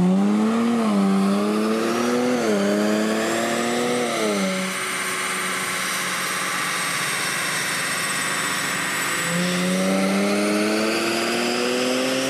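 A Nissan Z engine on a chassis dyno revs hard through rising, stepping harmonics, holds a loud sustained high-rpm roar, then drops back and climbs again near the end, with no voices.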